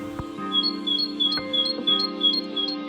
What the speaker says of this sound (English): Talgoxe is a common bird in Sweden that has a very beautiful song